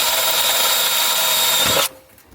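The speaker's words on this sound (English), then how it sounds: "I'm about to smoke a hole right through here with the drill bit as a pilot hole" Power drill boring a pilot hole while fitting a subwoofer amp ground screw, a loud close high whine that runs steadily for nearly two seconds, then stops abruptly into quiet.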